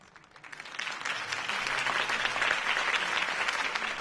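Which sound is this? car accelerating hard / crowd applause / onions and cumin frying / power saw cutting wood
crowd applause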